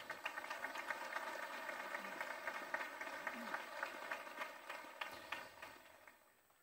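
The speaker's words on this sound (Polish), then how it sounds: "Brawa dla waszych duszpasterzy." A crowd of pilgrims at the Jasna Góra shrine applauding their pastors during a pilgrimage gathering, steady mid-distance clapping with a faint voice over it, fading out toward the end.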